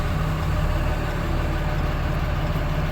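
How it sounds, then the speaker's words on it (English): A 2014 RAM truck engine runs at idle, a low, even mechanical hum that stays steady and unbroken, with no talking over it. "Truck is running."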